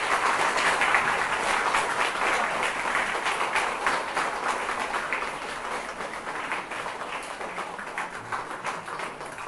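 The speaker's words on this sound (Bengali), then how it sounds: "জোরে হাততালি দিন।" Loud, sustained applause from an audience at a training session for mid-day meal cooks, a dense continuous patter of many hands that stays strong throughout and eases only slightly toward the end.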